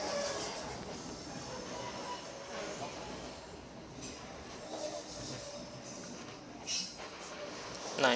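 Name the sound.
passing train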